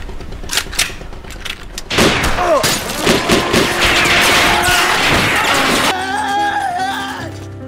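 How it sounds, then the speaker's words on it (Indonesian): A dense burst of gunfire in a Korean TV drama scene, as people leaving a temple are fired on: rapid close shots and crashing impacts pile up over several seconds before giving way to a quieter tonal tail. "saat keluar dari kuil, mereka malah diberondong dengan peluru"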